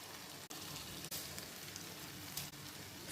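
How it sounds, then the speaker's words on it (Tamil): Beaten eggs poured into masala frying in a pan give a steady, broad sizzle that is fairly quiet and even, with a few brief dips and small clatters. No one speaks. "இப்போ நம்ம கலந்து வச்சுருக்கிற முட்டையை அப்படியே விட்டுடலாம்"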